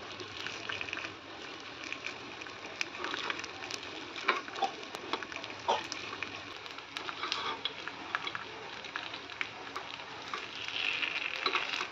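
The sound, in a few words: vegetable rava appe frying in a covered pan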